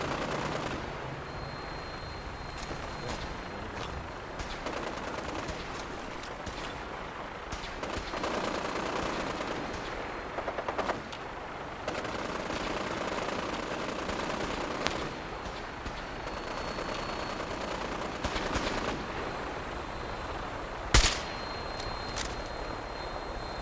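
Gunfire in Fallout 4, repeated shots and bursts of automatic fire amid steady game ambience, with one especially loud crack near the end; no talk over it.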